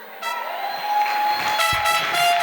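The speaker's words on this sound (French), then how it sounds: "Acclamation." Applause and cheering from a church congregation at a testimony service, a steady broadband wash that swells after a short quiet start and holds loud and close throughout.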